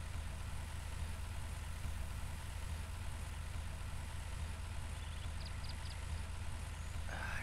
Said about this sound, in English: I'm in the tractor, I can hear it